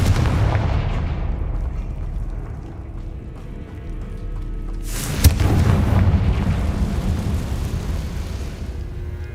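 Confringo fire spell blasts in the video game Hogwarts Legacy, heavy rumbling booms that roll on continuously, with one sharp, loud explosive crack midway followed by a sustained roaring rumble.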